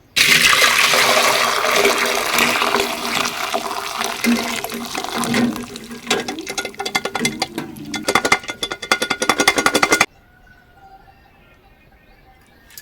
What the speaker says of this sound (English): I'm going to go ahead and strain the soup.